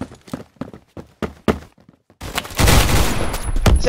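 Rapid pistol fire from an M1911 in the Roblox shooter Phantom Forces: a string of separate sharp shots, then a dense burst of overlapping gunfire and impacts.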